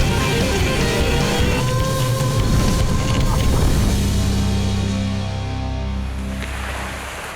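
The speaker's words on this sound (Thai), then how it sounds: "เจอคลื่นลูกใหญ่ครับตับไตไส้พุงนี่สะเทือนกันไปหมดเลยครับ" A speedboat pounding through big sea waves on a half-hour crossing to a small fishing island off Thailand's coast: a loud, continuous engine roar and rushing water with heavy low thuds, steady throughout with no clear talk.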